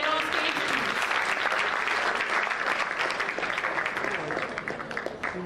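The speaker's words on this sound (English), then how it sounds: "We need to have a round of applause as our debaters get on stage." An audience breaks into loud, dense applause as debaters walk onto the stage, the clapping strong at first and easing slightly toward the end.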